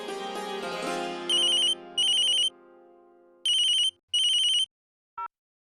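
A telephone ringtone plays during a phone call in a Hindi TV drama scene, with four bright, loud ringing bursts in a repeating pattern and a short blip at the end, following a fading musical chord.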